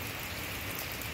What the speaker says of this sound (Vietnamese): Mưa quá trời.